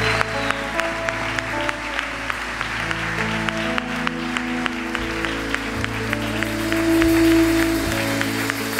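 Congregation applauding in a gospel church service in Milan, steady clapping throughout with sustained organ or keyboard chords underneath and a brief electronic tone near the end.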